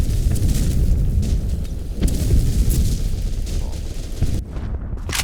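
Grenade blasts and gunfire in the online shooter Black Squad land as a string of loud, rumbling booms and sharp cracks, dense and overlapping, ending in a brief drop before the noise resumes.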